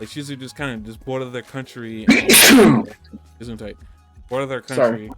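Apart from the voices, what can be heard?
sneeze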